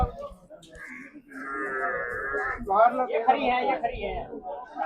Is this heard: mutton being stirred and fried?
no